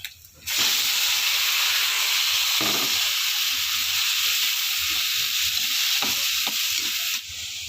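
Vegetables dropped into a hot pan for ginisang gulay, breaking into a loud, steady hiss and sizzle that holds for several seconds with a few faint stirring knocks underneath.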